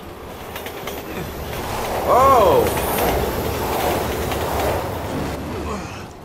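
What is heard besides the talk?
train passing in the video game Resident Evil 6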